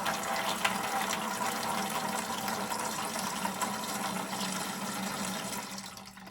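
Water rushes steadily through an Aprilaire Model 80 steam humidifier canister during a rinse, a constant broadband wash with a low hum beneath, close and unbroken for several seconds.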